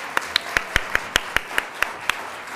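Sharp hand claps ring out in a steady, evenly spaced rhythm, about ten in a row, over a quiet room background.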